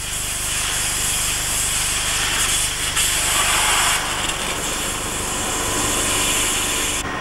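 An industrial water jet cutting machine gives off a loud, continuous hissing roar that stays steady throughout, with slight surges in intensity partway through.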